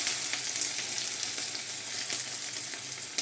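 Sliced onions sizzling in hot oil in a kadai, a steady close crackle and hiss with occasional brighter pops, no voices over it.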